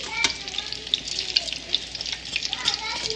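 Apple fritters fry in a pan of hot oil, producing a steady crackling sizzle with frequent small pops and bursts, fairly close.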